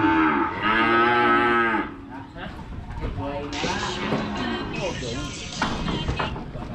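Cattle at a Thai livestock sale moo in long, deep, drawn-out calls, one loud and close and others overlapping, while people talk nearby.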